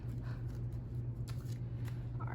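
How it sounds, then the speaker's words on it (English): A deck of tarot cards is shuffled by hand in a quick, riffling burst of soft papery flicks over a low steady hum. "Let's shuffle these cards."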